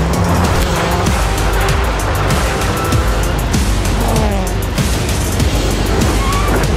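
A rally car runs flat out on an icy stage, its engine roaring loud and close with rapid gear changes and revs rising and falling, mixed with constant rumbling road noise.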